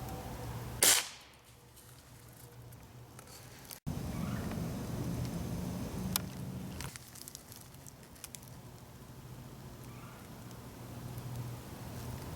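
Air Venturi Springfield Armory M1A .22 caliber pellet rifle firing, a single sharp crack followed a few seconds later by a second snap, with a quieter click after, outdoors with no talk.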